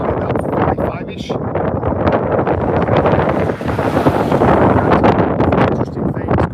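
Strong northeast winds at a storm's gust front northwest of Wall, South Dakota, roar and buffet the microphone without a break, loud and rough, swelling briefly in gusts.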